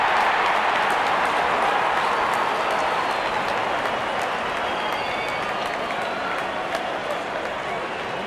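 A large cricket stadium crowd at an India versus Australia match cheers and applauds as the openers walk out, a dense continuous roar of clapping and voices that fades slightly over time.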